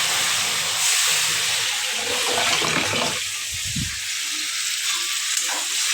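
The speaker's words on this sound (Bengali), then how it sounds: "ভাজা ভাজা হয়ে গেছে মশলাটা।" Spice paste frying in a pan with a splash of water, a steady loud sizzle throughout with brief stirring scrapes partway; no talking.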